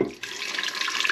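Tap water running into an electric custard maker in a kitchen: a steady, close hiss and patter of flowing water that starts after a brief moment and continues to the end.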